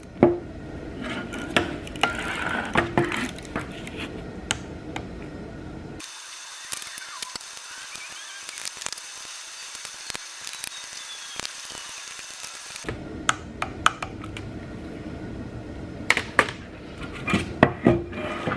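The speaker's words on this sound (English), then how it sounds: "I've got my torque wrench set at 60 pounds. Let's go ahead and start torquing those down." A torque wrench tightening socket head bolts on a RevMax 68RFE valve body, close ratcheting clicks and sharp metallic ticks in repeated runs, with a quieter stretch in the middle, no talking.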